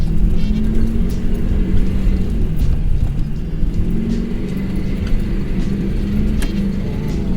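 A vehicle drives along with a steady low rumble and road noise from inside the cab, with occasional light rattles and clicks.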